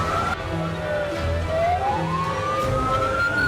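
A fire engine siren wails with a rising and falling sweep over busy, rumbling street noise at a café fire in the early hours on Jalan Jenderal Suprapto, Palangkaraya, Central Kalimantan.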